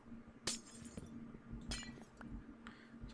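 A glass block breaks in Minecraft with a few quiet, bright shattering crashes against a low background hum.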